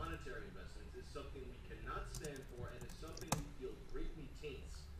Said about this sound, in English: right now I'm just typing in Fastboot and then space devices